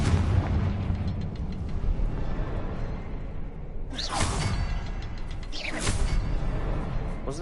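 A Confringo blast spell detonating in Hogwarts Legacy, two sharp whooshing bursts a couple of seconds apart rising out of a dense, rumbling background bed of game sound.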